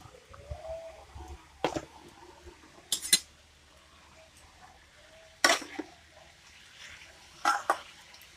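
Grated beetroot being roasted in a pan for halwa, with a few separate scraping clinks of a spoon against the pan spaced seconds apart over a quiet, faint background.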